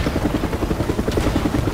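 Helicopter in the Transformers Online game, a steady rapid rotor chop with a broad engine roar, loud and continuous across the short stretch with no talk.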